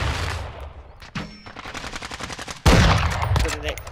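Rapid bursts of video game gunfire crackle at close range, with rattling automatic fire and sharp shots in uneven clusters, including a loud volley near the end.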